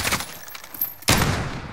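Video game gunfire: a scatter of light shots at first, then a sudden loud burst of sustained rapid fire that carries on to the end.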